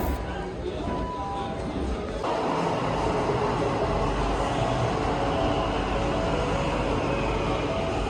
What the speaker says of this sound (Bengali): তো আমরা এখন মেট্রো থেকে নামলাম চাঁদনি চক স্টেশনে।